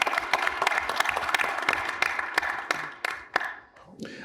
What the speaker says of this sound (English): let's give the panel and Dan and everyone a quick round of applause before we get started